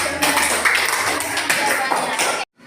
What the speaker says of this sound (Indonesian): beri tepuk tangan untuk Cindy.